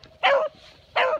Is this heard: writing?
no